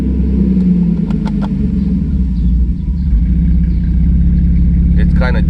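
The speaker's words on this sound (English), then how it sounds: "So it's like you're in gear right now and it wants to move forward" A Mercedes 600SEC sits in gear and strains to creep forward, its engine giving a low, steady idling rumble close by, with a brief light clatter and a person speaking over it.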